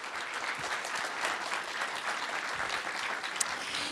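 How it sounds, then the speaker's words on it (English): Steady round of applause for a NASA Parker Solar Probe launch team at a live event, a dense, even clatter of many hands clapping throughout with no break, moderately loud and fairly close. "Let's give a nice round of applause for our launch team here."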